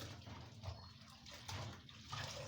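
Washing a surface by hand with detergent water during household cleaning, a steady close splashing and sloshing of water with soft rubbing swells over about two and a half seconds.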